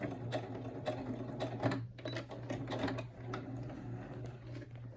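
Steady, close mechanical whir and rapid needle clatter of a sewing machine back stitching along the edge of a chenille baby blanket, running continuously with small bursts of clicks.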